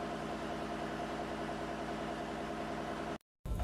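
A ship's engine running in the engine room, giving off a steady low mechanical drone that cuts out abruptly near the end before briefly returning.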